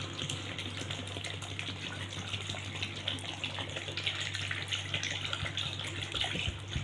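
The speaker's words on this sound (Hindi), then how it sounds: "मैं इसमें इतना पानी डालूंगी कि पाए जो है ना इसमें डिब हो जाएं।" Water pours steadily into a pot of beef trotters in a kitchen, a continuous close splashing gush with a low hum underneath. One short spoken word is heard near the start.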